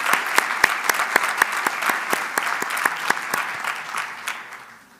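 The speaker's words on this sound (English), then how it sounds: "can we give one more round of applause for our legislators who are here and their representatives?" Audience applause for visiting legislators at a school sustainability forum, a steady crowd of many hands clapping with sharp individual claps standing out, fairly close, tapering off toward the end.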